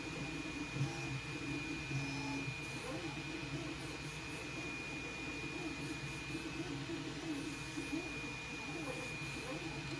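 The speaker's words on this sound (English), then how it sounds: "So I just turned on the printer." An Elegoo Centauri Carbon 3D printer, which has a fault, runs just after being powered on, giving a steady fan-like hum and hiss with a constant high whine, at moderate volume and unchanging throughout, with no talking.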